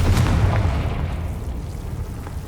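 A Confringo fire spell bursts in Hogwarts Legacy as a single loud, close explosion, a deep boom that fades into a rumbling tail.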